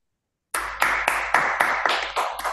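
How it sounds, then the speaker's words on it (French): A small group claps at the close of a French-language talk on climate change and healthcare, a near, loud series of about eight distinct bursts in an uneven rhythm after silence. "J'entends les applaudissements"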